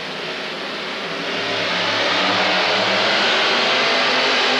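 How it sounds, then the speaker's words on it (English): A heavy modified four-wheel-drive pulling truck engine roars and revs under strain at a truck pull, growing louder and steadier as it pulls hard, with no voices. "The engine sounds like it's pulling down a little bit"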